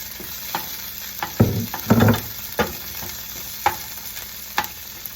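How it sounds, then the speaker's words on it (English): Peas go into a frying pan of Sicilian eggs and peas, giving a soft sizzle under a string of sharp clinks and stirring bursts, close and fairly quiet. "Now that they cook a little bit, we add the peas."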